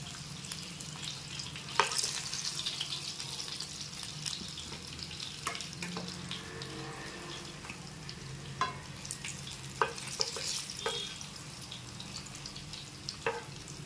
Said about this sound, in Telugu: నేను ఇప్పుడు ఫ్రై చేస్తున్నానండి